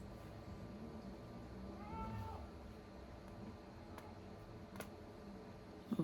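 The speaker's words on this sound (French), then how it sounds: "Si jamais des fois sur mes vidéos vous risquerez des fois de voir un chat." Faint indoor cat meow heard once amid a quiet room with low background noise and a few light ticks.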